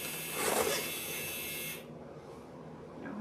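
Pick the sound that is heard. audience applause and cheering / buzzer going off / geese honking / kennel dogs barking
buzzer going off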